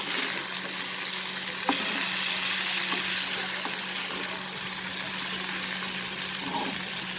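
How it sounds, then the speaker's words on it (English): Onion, potato and bitter gourd sautéing in a pan with chili flakes, a steady close sizzle throughout with a few faint knocks of stirring and a low hum underneath. "And now we will saute this and cook till our onion, till our potato and the bitter gourd gets cooked"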